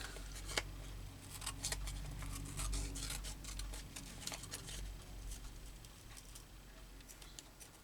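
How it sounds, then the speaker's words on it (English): Scissors snip through paper in quick, irregular bursts of crisp cuts, close by, over a low steady background hum. "scissors."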